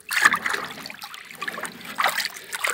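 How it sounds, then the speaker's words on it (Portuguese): Water splashes and trickles in uneven bursts as cassava roots are washed for making flour, close up and fairly loud with gushing pulses. "a gente faz esse sistema aqui de lavar a mandioca"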